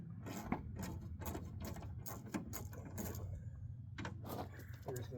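A quarter-drive ratchet with an extension backs out 5/16 bolts on a 2006 Dodge Magnum headlight, giving close, rapid pawl clicking in repeated bursts with short pauses between strokes.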